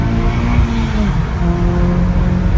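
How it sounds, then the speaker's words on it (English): A turbocharged Acura TSX engine revs hard and loud, a steady close-up roar rising and holding through VTEC, with no talking over it. "You see me revving out"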